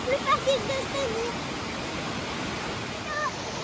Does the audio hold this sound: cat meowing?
no